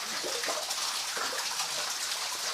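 Water flows and splashes continuously at a small waterfall, a steady broad rushing sound heard nearby with no pauses.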